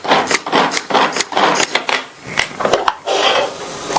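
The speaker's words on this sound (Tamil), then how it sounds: "கொஞ்சம் காலிஃப்ளவர் பீசஸை நான் சாப்பர்ல சேர்த்திருக்கேன்" A handheld vegetable chopper minces cauliflower pieces in a burst of rapid, uneven clattering chops, with sharp plastic-blade strikes and short pauses between pulls.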